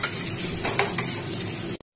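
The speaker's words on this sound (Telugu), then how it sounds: "మినుములు ఒక 2 నిమిషాల పాటు వేగాలి బాగా" Black gram (urad dal) frying in a pan while being stirred, a dense close sizzle with a few scraping spoon strokes against the metal, ending in a brief silence before a last clatter.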